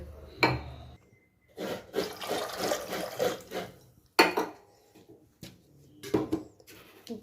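Water poured into a pressure cooker holding raw peanuts for boiled peanut sundal, heard as a few rushing, splashing pours broken by short pauses and faint knocks.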